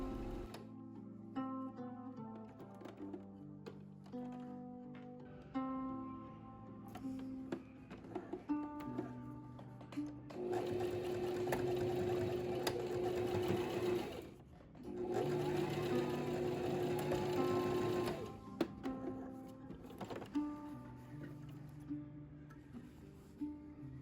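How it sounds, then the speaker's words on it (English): A sewing machine stitches the top edges of a fabric pocket for a loungewear kimono, running in two long steady bursts with quieter clicks and handling sounds between them. "sew one edge of the pocket top to the pocket, right sides together"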